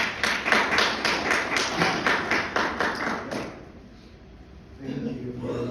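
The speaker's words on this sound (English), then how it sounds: "please let's clap our hands for Dr. Azika as he comes" Audience applause at a mental health talk, a dense burst of many hands clapping that swells for about three seconds and then fades, followed by a quieter stretch and low murmuring.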